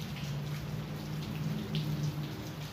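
Rain falls steadily on a rainy day outdoors, a continuous soft patter with scattered drip ticks over a low background hum, no talking.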